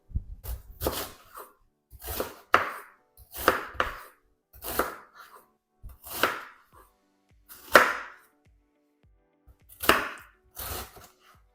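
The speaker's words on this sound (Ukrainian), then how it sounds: "Усі овочі я буду нарізати кубиками, капусту шашечками." A knife chops cabbage and other vegetables into cubes on a board, about a dozen crisp, close strikes in irregular bursts separated by short silences.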